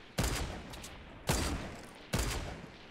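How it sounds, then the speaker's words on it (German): Three loud, evenly spaced bursts of gunfire ring out in a Fortnite Battle Royale match, each shot followed by a short decaying tail, with no talking over them. "Ja, die schießen da."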